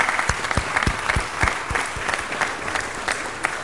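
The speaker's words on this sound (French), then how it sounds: "Et vous applaudissez." An audience applauds at an Air France event for the Airbus A380, a dense, steady clapping that carries on evenly for a few seconds, with no voices over it.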